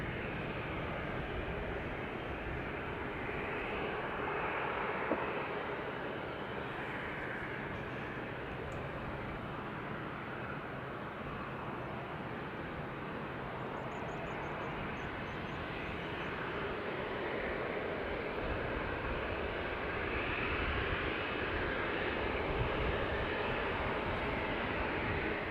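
Broad, steady jet roar of an airliner on approach to Dublin Airport's north runway, a continuous loud wash of engine noise that swells slightly toward the end with no pause.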